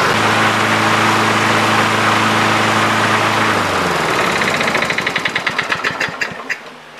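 A lawn mower engine that refuses to shut off runs loud and steady with a low harmonic hum, then winds down into slowing, uneven chugs and sputters over the last few seconds, with no talking.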